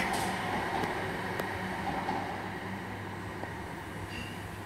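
A train pulls into Five Ways station in Birmingham with a steady low rumble of wheels and carriages, occasional faint clicks and a thin squeal, heard from the platform and slowly easing off.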